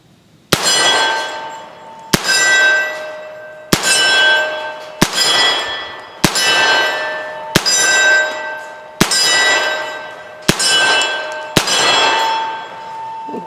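A Flint River Armory CSA-45 piston carbine in .45 ACP fires eight sharp shots at a steady pace. Each report is followed by a bright metallic ring that decays between shots.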